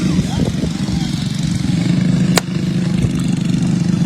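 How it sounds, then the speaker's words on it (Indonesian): A motorcycle engine revs and drones steadily as its wheel slips on a muddy track at a landslide site in Cisarua, loud and close throughout, with a brief sharp noise midway and a voice talking over it. "Nah itu, motornya mengalami slip."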